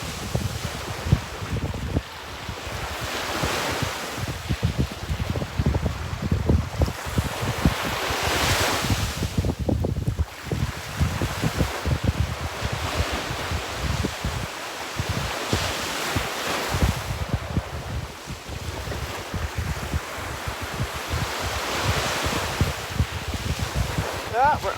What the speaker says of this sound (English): we can just enjoy the sound of the waves together too.